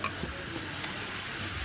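Katla fish curry frying and being stirred in a pan, with a steady sizzle and soft scraping of a spatula throughout.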